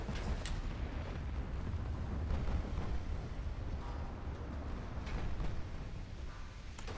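Torpedo hits on battleships in the naval strategy game Ultimate Admiral: Dreadnoughts, heard as a steady dull roar of distant rumbling detonations and gunfire, fairly faint and muffled, with no speech over it.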